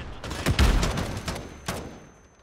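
Oden assault rifle fire in Modern Warfare, a few close bursts of shots with no speech, trailing off toward the end.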